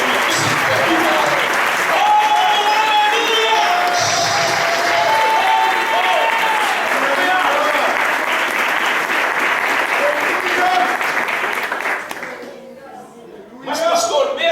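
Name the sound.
church congregation applauding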